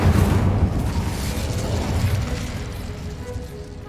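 A fire spell cast in the Hogwarts Legacy video game, a dense, rumbling whoosh of flame that starts loud and slowly fades over a few seconds, heard alone.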